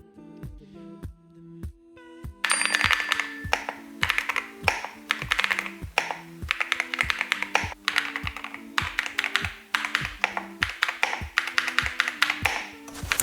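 Typing on an Epomaker TH80 Pro V2 keyboard with gasket-mounted switches: a steady stream of close, crisp key clacks in quick, uneven rhythm that runs for about ten seconds after a brief tonal lead-in, with no voices.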